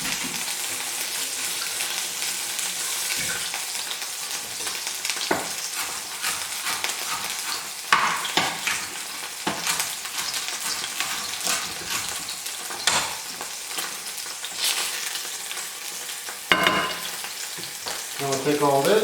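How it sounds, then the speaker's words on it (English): Mushrooms and peppers fry in a pan for Salisbury steak, a steady bright sizzle broken by scraping stirs and clinks throughout. "Now I'll take all this, and give it a quick fry."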